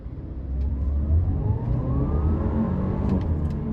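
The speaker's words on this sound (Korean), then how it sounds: "오르막길에서 가속을 시속 0, 60까지 가속을 한번 해볼게요" A 2022 Audi A5 Sportback 40 TFSI quattro accelerates uphill from a stop, its turbocharged engine a steady low drone rising gradually in pitch, heard from inside the cabin with no talk.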